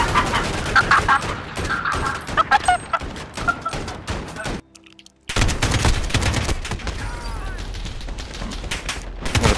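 Dense bursts of gunfire in Call of Duty: Modern Warfare, a whole magazine emptied through a wall, rattling loud and close for several seconds, breaking off briefly and then resuming, with players talking over it.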